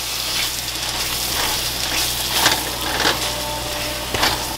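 Ground masala paste for butter chicken fries in a pan with a steady crackling sizzle and occasional soft scrapes as it is stirred.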